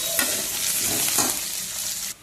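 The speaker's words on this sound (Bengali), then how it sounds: "ওই তেলেই পেঁপেটাকেও ভালো করে একটু ভেজে নিই।" Papaya pieces fry in hot oil left over from frying potatoes, a dense continuous sizzle with stirring scrapes that cuts off abruptly at the end.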